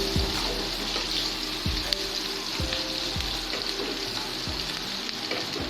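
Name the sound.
frying onions with cardamom and cinnamon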